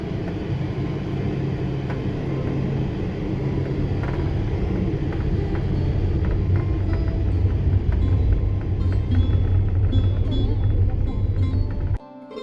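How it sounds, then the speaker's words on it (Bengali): Inside a city bus moving through Prague, a steady low engine and road rumble fills the cabin, growing slightly louder before cutting off abruptly near the end; nobody speaks. "তো এখন আমরা মেট্রো থেকে নেমে বাসে করে যাচ্ছি।"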